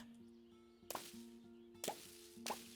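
Three sharp swishing, chopping weeding hits from the game Witchy Life Story, spaced about a second apart, over a soft tonal background hum.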